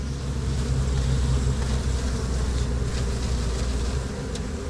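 Thousands of honeybees buzz from a package being poured into a hive, a dense continuous drone with low hum sustained and steady throughout, close and fairly loud with no voices.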